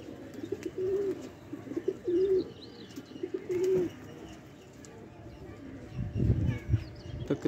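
Young pigeon chicks coo softly in a pigeon loft, making several low, rolling coos in short bursts with faint chirps between them. A rustling, fluttering sound closes the passage.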